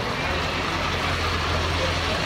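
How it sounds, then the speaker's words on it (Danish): A huge truck rolls past at an outdoor Marin festival, a loud, steady, close engine roar and rumble that fills the whole stretch without letup. "nu kommer der Søren Sjæsk med en kæmpe lastbil"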